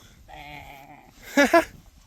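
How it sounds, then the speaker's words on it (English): Lambs in a flock of sheep on a mountain in the central Brecon Beacons, South Wales, bleat in a drawn-out call followed by two shorter, louder bleats close by, with a faint outdoor background. "There are 4 little lambs who are sing their song. Ba, ba, ba."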